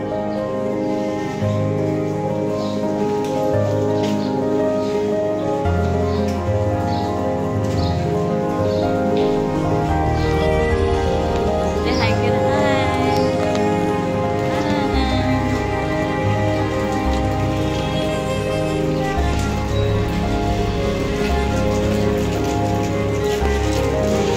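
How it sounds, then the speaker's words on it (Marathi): Steady rain patters on a surface throughout, with a layer of sustained tonal sound running over it and no talking. "ए थांब, पाऊस आहे, पाऊस आहे."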